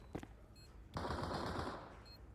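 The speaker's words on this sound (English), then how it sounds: "And a warning shot to Flit. There's more bullets where that one comes from" Rapid automatic gunfire from Counter-Strike 2 during a professional esports match, a loud sustained burst of shots following a brief single crack, with no talk over it.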